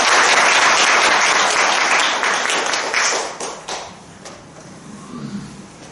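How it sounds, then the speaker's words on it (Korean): Applause from a Korean Buddhist temple audience at a Sunday environmental dharma gathering, a dense loud wash of clapping that thins and fades out over the last couple of seconds. "오늘 우리에게 좋은 법문을 해주신 박사님께 다시 한번 큰 박수를 부탁드립니다"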